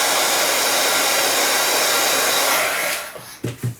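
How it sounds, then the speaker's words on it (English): A heat gun blows hot air to dry black paint on gingerbread cookie decorations, a loud, close, continuous whooshing roar that cuts off near the end, followed by a few soft handling knocks. "I'm going to put the heat gun just to dry that black."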